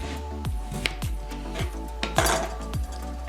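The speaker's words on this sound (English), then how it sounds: "let's start by chopping our potatoes in half" Potatoes are halved with a knife on a cutting board, giving five or six sharp, evenly spaced chopping thunks close by, each blade strike landing on the board over a low steady background hum.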